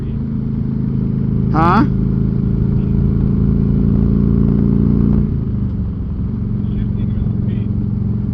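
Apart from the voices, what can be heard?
Harley-Davidson Electra Glide motorcycle engine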